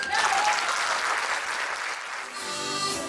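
Applause from an audience at a folk music gathering in Talagante, Chile, greeting a huaso-style folk group from central Chile: a dense, steady wash of many hands clapping, fairly close and loud, tapering slightly near the end.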